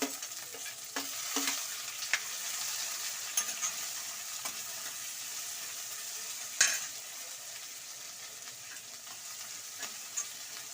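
Onions fry in a pan as filling for masala dosa, a steady moderate sizzle with scattered clicks and taps of stirring, close and without voices.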